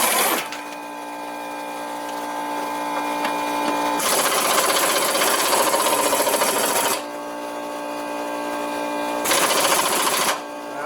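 A power tool on a 2010 Hyundai Santa Fe V6 takes out transmission mount bolts, whirring steadily in long bursts that surge louder at intervals, close by and alone.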